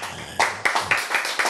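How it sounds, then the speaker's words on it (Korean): Five sharp, evenly spaced claps ring out close and fairly loud during a church Bible lecture, following a brief moment of voice. "박수."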